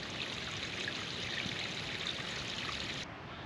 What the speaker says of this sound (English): Oh, nice water feature.